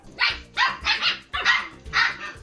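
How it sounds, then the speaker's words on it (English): Puppies barking in five or six short, sharp bursts with brief gaps, close and loud, no voices. "even fluffy little puppies."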